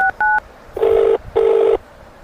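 Telephone keypad tones beep as a number is dialed: two quick short tones followed by two longer, louder tones, close and clear with no talking.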